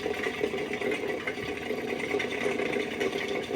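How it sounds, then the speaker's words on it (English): Fishing line being reeled onto a baitcasting reel spool, a steady, smooth mechanical whirring that runs continuously at a moderate level with no speech. "You just reel it right up on there."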